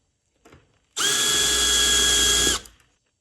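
A RoViar countersink deburring tool in a drill runs up loudly for about a second and a half as it chamfers a CNC-drilled hole, a steady high whine with a faint bump just before it starts.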